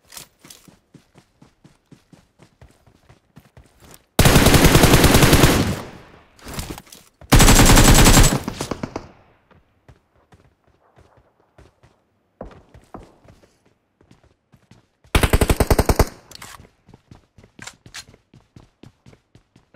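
Gunfire in a mobile video game: long bursts of automatic fire in three loud blasts, between them a steady run of quick footstep-like taps and scattered single shots, all close and alone.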